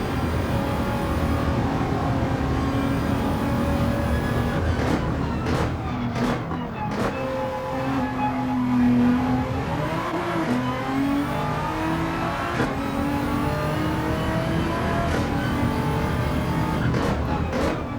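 A Nissan GTR GR3 race car at Daytona in Gran Turismo 7 drones loudly at a close, steady pitch, rising and falling through gear changes with an occasional tire squeal, and a voice talks over it.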